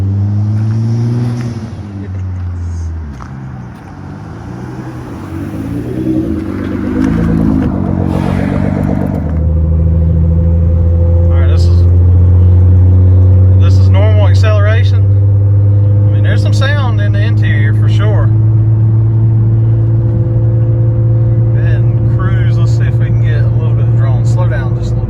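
A Nissan GT-R with a Fabworx 4-inch catless straight-pipe exhaust and 5-inch titanium tips drones loudly and steadily nearby, its pitch shifting with revs, while people talk over it.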